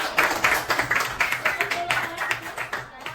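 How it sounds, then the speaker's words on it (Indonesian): A classroom group applauds classmates during a microteaching lesson, with a steady run of many overlapping claps lasting throughout, fairly close and loud, while some voices mix in underneath. "Oke, tepuk tangan buat teman-teman"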